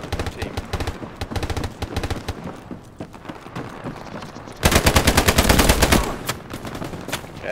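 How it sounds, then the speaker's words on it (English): Machine gun fire in the World War II shooter game Hell Let Loose: repeated rapid automatic bursts, closer and louder near the end, mixed with other scattered gunshots. "It's fucking MG's gunning down our team."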